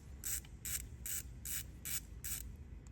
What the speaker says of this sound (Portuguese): Vem com a catraquinha chave 10.